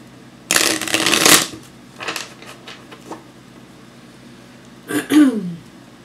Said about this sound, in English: We'll shuffle it up a little.